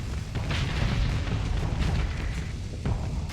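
A battleship blows apart in the space combat game Starsector, with a loud, sustained rumbling boom and crackling bursts lasting several seconds, plus a sharper blast near the end.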